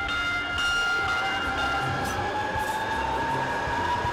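A Seattle Link Light Rail train rolls steadily close by, its wheels and motors making a continuous rumble with a sustained high electric whine throughout, and no voices.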